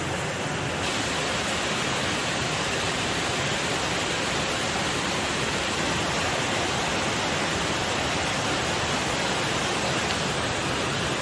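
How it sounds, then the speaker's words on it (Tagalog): Rain falls steadily outside a home garden, a dense, even hiss that holds for the whole stretch with no voices. "It's raining."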